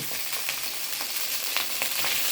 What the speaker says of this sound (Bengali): এখন একটু পানি দেওয়ার পরে এটাকে ভালো করে নাড়া দিতে হবে